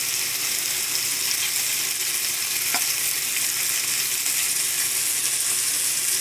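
Surf and turf searing in a hot pan, a steady, close sizzle and crackle of frying that runs unbroken throughout with no talking.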